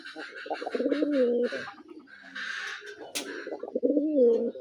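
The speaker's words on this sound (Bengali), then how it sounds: "একদম ফ্রেশ কবুতর দেখতে সবগুলাই কি সুন্দর ডাকাডাই করতেছে" Black and white Raj Golla pigeons coo close by, with repeated throaty, rolling calls that rise and fall, and softer chirps and rustles between them.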